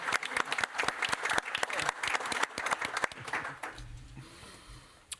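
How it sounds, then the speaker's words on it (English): Audience applause at a city council meeting: a modest group clapping with distinct, fairly close individual claps in an uneven rhythm, thinning out and stopping after about four seconds, followed by quiet room noise and a faint low murmur. "hey, let's clap."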